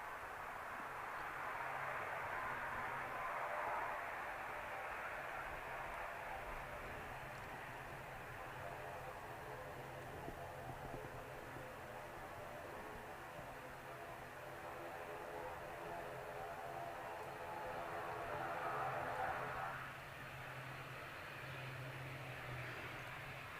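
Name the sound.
Aer Lingus aircraft taxiing at Manchester Airport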